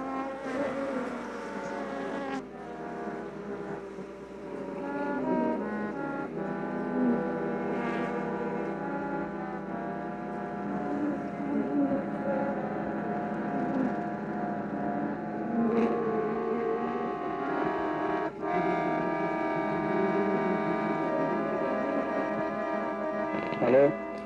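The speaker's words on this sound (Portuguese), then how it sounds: "Este último som parece de uma fábrica, é o microfone dentro da colmeia final." Bees inside a beehive, recorded with the microphone placed within the hive, produce a dense, steady drone with layered tonal hums that sounds almost industrial, continuous and close throughout.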